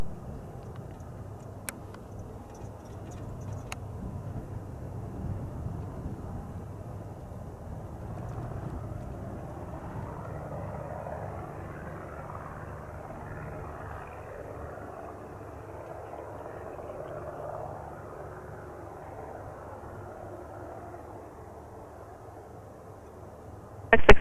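A general aviation aircraft taking off from runway 8 right at Spirit of St. Louis Airport, its engine a steady, moderately distant drone that swells and fades slightly over time, with no talk.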